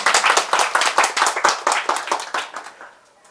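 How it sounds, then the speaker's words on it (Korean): An audience claps at an author's book talk at a Kyobo bookstore branch in Mokdong, Seoul, giving a brisk burst of hand claps that fades out near the end. "이 자리를 마련해 주신 자이언트북 컨설팅 이은대 대표 작가님께 박수 한번 또 쳐주시고요."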